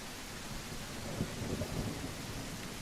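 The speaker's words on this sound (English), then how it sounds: "The rain makes it very difficult." Steady rain hisses from a video game thunderstorm, and a low rumble of thunder rises and falls in the middle. The noise fills the whole background with no talking.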